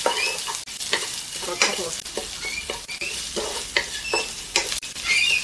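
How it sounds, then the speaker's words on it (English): Spice paste for a Malaysian fish curry in hot coconut gravy is stir-fried in a pan, with constant close sizzling broken by repeated scraping strokes as it is mixed. A few spoken words come in briefly. "Toss in the paste. Give it a good mix."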